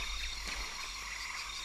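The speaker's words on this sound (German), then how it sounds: "Ah nein, das ist ein Frosch." A blue frog croaks in the jungle of Shadow of the Tomb Raider, giving a few soft, repeated calls over a steady, humming ambience with no talking.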